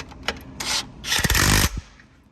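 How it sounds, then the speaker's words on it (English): A wrench tightening a thin lock nut on the motor bearings of a TRAX X2 chain setup gives short metallic scrapes and a longer rasping rub with a few knocks, close and without talk. "Put my wrench back on my skinny lock nut here. Tighten up these motor bearings."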